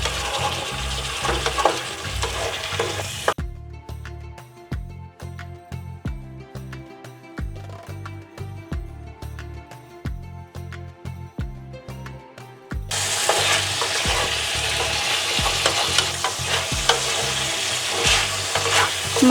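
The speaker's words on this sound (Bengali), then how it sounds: "মাঝে মধ্যে আমি এইভাবে নাড়াতে থাকবো, নালে নিচ থেকে মশলাগুলো ধরে যাবে।" A spoon scrapes and stirs yogurt chicken curry spices in a sizzling frying pan, with rhythmic scraping strokes throughout and the frying hiss dropping away in the middle before returning strongly.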